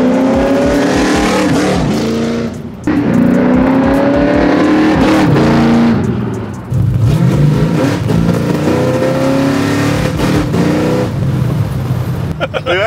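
An 800 hp 1966 Chevy Nova revs hard and accelerates, its loud engine note rising and falling in repeated surges with brief lifts between pulls, close by and dominant, with some voices mixed in.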